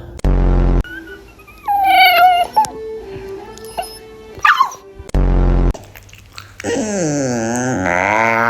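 Puppy yawning: squeaky, whiny vocalizations that rise and fall, with a couple of loud low thumps and a long drawn-out whining yawn at the end, close and fairly loud.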